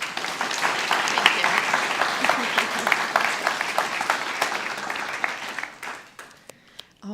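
Sustained applause from a crowd at a guide dog school graduation ceremony for a class of blind handlers, dense clapping that thins out into a few scattered claps near the end.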